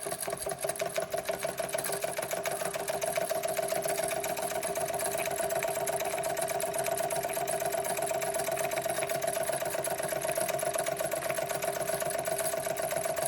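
A Jensen Model 75 toy steam engine runs steadily at close range, giving a fast, even mechanical chuffing and clatter with a constant hum underneath throughout.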